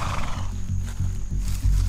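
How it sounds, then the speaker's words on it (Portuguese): Horses at a farm give low, rumbling snorts and whinny-like calls in repeated bursts, close and fairly loud over background noise. "Deixa eu ver esses cavalos"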